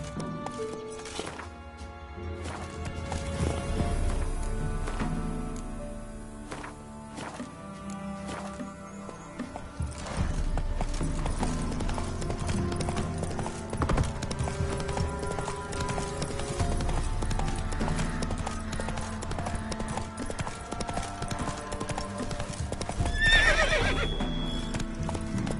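Roach, a horse in The Witcher 3 video game, gallops with rapid, continuous hoofbeats and lets out a whinny near the end, all over a layer of game music.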